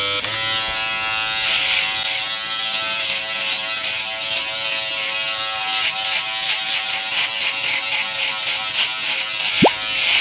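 A Philips BodyGroom Series 3000 electric body groomer with a 3mm attachment buzzes steadily up close trimming armpit hair, its motor pitch shifting slightly, with soft rapid ticking and scraping against skin.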